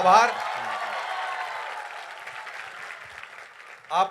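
Loud, sustained applause from an Indore audience welcoming an actor fills the clip, with a voice speaking briefly at the start and end.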